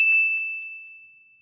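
A bright notification bell dings once, clean and close, then its single pure tone rings out and slowly fades to silence.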